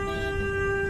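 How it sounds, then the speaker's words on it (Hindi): A single sustained car horn blast on a muddy road, loud and close, holding one steady tone for the whole moment without break. "क्या हॉर्न मार रहे हो भाई?"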